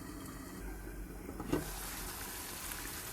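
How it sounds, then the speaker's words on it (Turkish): Spinach roots sauté in a pan with softened tomatoes, giving a soft, steady sizzle and hiss with a faint stir partway through, quiet and close. "suyunu salıp biraz böyle pörsününceye kadar onu da bu şekilde kavuruyorum"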